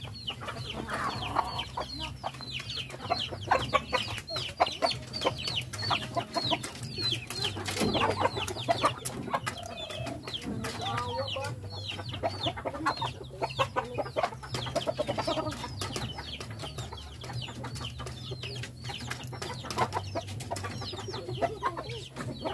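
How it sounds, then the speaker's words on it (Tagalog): Native chickens cluck and chatter continuously at a moderate distance, with overlapping calls over a soft farmyard background. "kani di ang mga manok na doon sila yung pangalan, si Lulu and Ceci."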